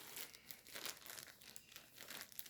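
A plastic package holding ten balls of knitting yarn being opened, with close, crisp crinkling and rustling in quick repeated bursts and no voices.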